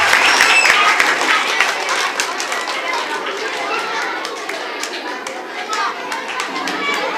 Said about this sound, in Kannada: ಉಳಿದ ಎಲ್ಲ ವಿದ್ಯಾರ್ಥಿಗಳು ಚಪ್ಪಾಳೆ ಮೂಲಕ ಅಭಿನಂದನೆಯನ್ನು ಸಲ್ಲಿಸಬೇಕಾಗಿ ನಾನು